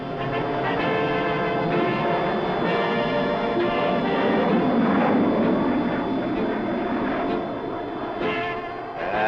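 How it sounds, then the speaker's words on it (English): A jet aircraft flying over a rural railroad setting makes a loud, sustained, broadband roar that fills the scene and eases slightly near the end. "Now, that jet'll be through here with us."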